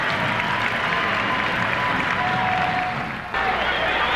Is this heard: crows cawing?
no